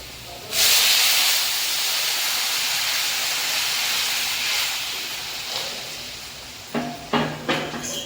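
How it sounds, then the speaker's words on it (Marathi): Hot water poured into a pan of hot oil and peanuts bursts into a loud, sustained steam hiss that slowly fades, followed by a few sharp clatters near the end. "शेंगदाण्याला तेल सुटल्यानंतर त्यामध्ये गरम झालेले पाणी घालू"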